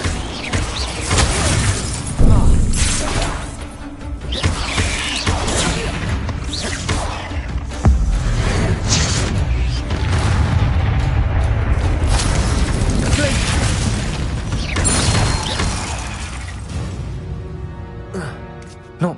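Bombarda spell blasts in Hogwarts Legacy burst out as repeated booms and shattering crashes during a fight with a giant spider, dense and loud over steady game noise, with a voice calling out at times.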